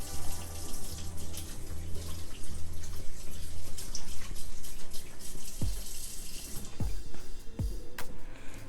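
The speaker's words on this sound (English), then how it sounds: "Now I'm going to wash my hands because I'm getting ready to put these into patties." Tap water running steadily into a kitchen sink for hand washing while making salmon croquettes, a close, continuous rushing stream with a few brief splashes and knocks near the end.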